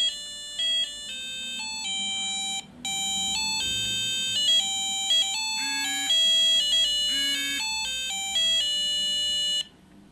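A Squale SV-3000 car alarm plays a bright, beeping electronic melody of quick tonal notes. It is fairly loud and steady, runs for about ten seconds, and has a brief pause near the start.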